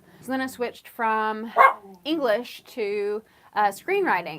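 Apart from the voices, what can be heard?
dog barking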